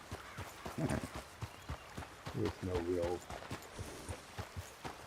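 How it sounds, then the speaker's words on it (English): Horse hooves clip-clop in a steady trotting rhythm inside the Red Dead video game, moderately close and running under someone talking throughout. "why run everywhere? You're just exhausting your horse."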